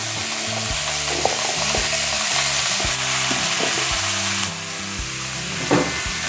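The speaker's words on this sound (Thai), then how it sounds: "เวลาเราใส่สายบัวนี้แป้งก็จะเพิ่มไฟแรงๆนะคะ" Lotus stems stir-frying in a pan over high heat, a loud continuous sizzle broken by steady scraping and clacking of a spatula against the pan, with no talking.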